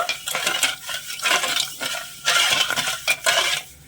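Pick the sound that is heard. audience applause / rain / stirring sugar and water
stirring sugar and water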